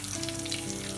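About ten whole peppercorns and spices fry in hot oil for pumpkin and bean erissery, giving a close, continuous, even sizzle.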